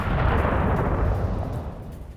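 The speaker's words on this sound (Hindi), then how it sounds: "जैसे ही माइंस के पास से गुजरा एक जोरदार धमाका।" A landmine explodes under an armored vehicle: a heavy, rumbling roar that fills the clip and slowly fades, with no voices.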